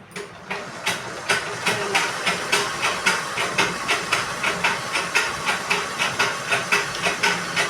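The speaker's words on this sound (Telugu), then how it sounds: "దీనికి మోటార్ లేదండి నేను కాళ్ళతో పెట్టుకున్నాను అందుకే మీకు సౌండ్ వస్తుంది" A motorless treadle sewing machine stitches a fall onto a saree edge, running with a rapid, steady rhythmic clatter, each stitch a sharp tick in quick regular succession, close and loud.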